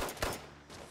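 A single loud gunshot in Fallout 76 with a rumbling tail, followed by another softer shot toward the end, set against a low game-world background.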